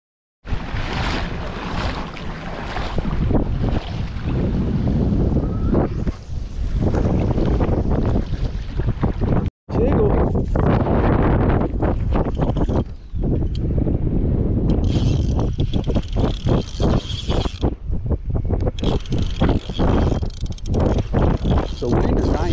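Strong wind on a fishing trip near Aransas Pass, roaring and buffeting the microphone almost without pause, with a sharp break near the middle. A person talks underneath the gusts.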